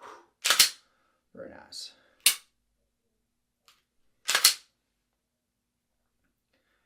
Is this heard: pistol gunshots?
yes